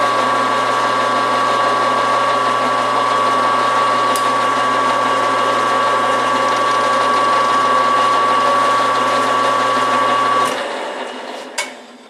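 A cutter works around a metal shaft on a motorcycle part for a 13B rotary-engined dirt drag bike, a loud steady mechanical whir with a constant tonal hum, then it winds down near the end with a couple of sharp clicks.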